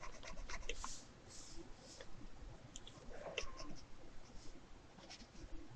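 Pencil sketching on paper, a soft, close scratching of quick strokes and short pauses, faint and continuous with no talking.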